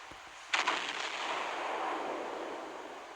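Main guns of the battleship Kaiser fire shells in the Naval Creed naval combat game: a single muffled boom followed by a long, faint rumbling wash of noise, with no talk.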